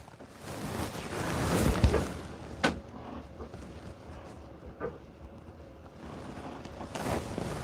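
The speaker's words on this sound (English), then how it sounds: "Yeah, the wind's picking up." Steady wind rushes and buffets around a moored sailboat with its mainsail off, heard from inside the cabin, with gusts swelling and occasional knocks and creaks, no voices.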